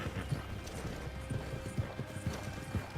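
A horse gallops in the video game Red Dead Redemption 2, a quick, rhythmic clip-clop of hooves heard faintly and evenly throughout.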